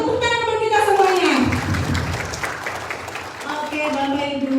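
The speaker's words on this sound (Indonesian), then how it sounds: "Tepuk tangan buat kita semuanya" An audience at a morning training session on reading company financial reports breaks into a short burst of clapping, heard under a presenter's voice, which is raised and speaking throughout.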